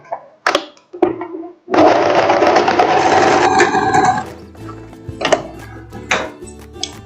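Sewing machine stitching a short lace dress, running in one loud, steady burst of about two and a half seconds. Scattered handling clicks and knocks come before and after it.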